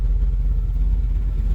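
The engine of a 1989 Chevrolet R30 square body truck idles warm with a steady, heavy low rumble and an even, unbroken drone, close by and loud with no voices.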